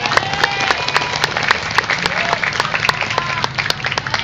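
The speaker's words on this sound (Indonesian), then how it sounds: "Tepuk tangan." Crowd applause at a school graduation ceremony on a stage beside a mosque, with many hands clapping loudly and continuously, and faint voices beneath.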